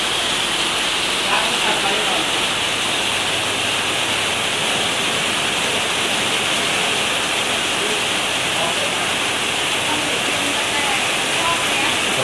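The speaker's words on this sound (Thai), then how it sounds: "ฝนตกหนักมาก" Heavy rain pours steadily while a fish pond is being cleaned, a loud, dense, unbroken hiss that holds at full strength from start to finish.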